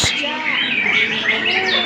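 A canary sings in bright, rapid chirps and warbling trills that run continuously and fairly close, with busy layered bird calls filling the background.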